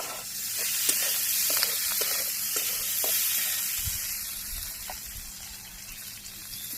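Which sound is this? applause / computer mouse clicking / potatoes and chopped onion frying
potatoes and chopped onion frying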